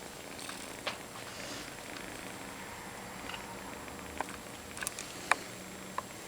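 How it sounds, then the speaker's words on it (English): Close, steady purring from a nursing mother cat runs throughout, a soft continuous rumble broken by a few faint clicks and taps, with no voices. "You can hear her purring."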